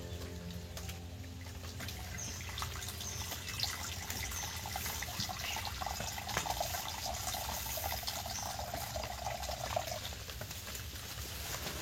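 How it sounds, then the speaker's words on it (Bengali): Hot water being poured while making khasta goja, a soft continuous trickling and splashing stream, fairly faint and steady, with no talk. "আর আমি এদিকে এই যে গরম জল দেব"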